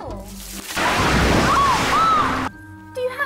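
Water is emptied out of a window in one loud continuous gush and splash lasting a couple of seconds, with voices and music around it.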